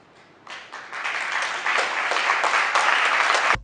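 Sustained applause and cheering from a crowd honoring a project team at a JCI Benin ceremony, swelling in after a quiet start and holding steady and loud until an abrupt stop.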